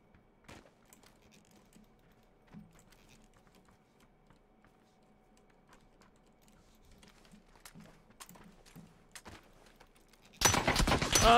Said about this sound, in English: Sound like a new gun.